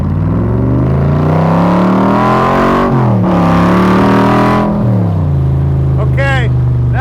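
A 1965 Shelby Cobra Backdraft V8 revs loudly at about one-third throttle, rising and falling in repeated swells with a deep, rumbling exhaust close by; brief tire or drivetrain chirps appear near the end.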